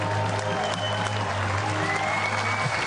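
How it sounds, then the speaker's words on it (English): Fans applauding beach volleyball players at a World Cup final, a dense, steady crowd clap with some cheering mixed in, loud and continuous throughout. "the fans applauding the players as they come back"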